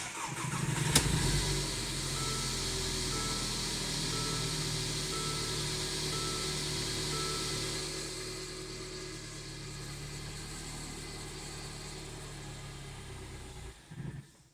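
Mercedes engine idling steadily with a low, even hum before sputtering and cutting out as it stalls near the end, close and fairly loud, with no talk.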